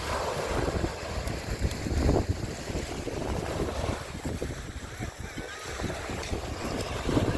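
Wind gusting steadily across a seaside beach park at Sylvan Beach, La Porte, Texas, a broad, constant rushing roar with buffeting near the microphone and no voices.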